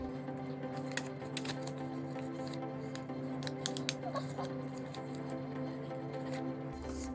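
Origami paper being folded by hand, a flap creased down on each side, giving soft crisp paper crinkles and a few sharp taps over a steady low room hum.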